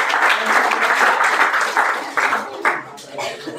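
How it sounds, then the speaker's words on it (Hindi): A classroom of students claps for a classmate after a physics problem on spherical mirrors, a lively burst of many hands that thins out into a few scattered, trailing claps near the end. "बजाओ ताली बच्चे के लिए।"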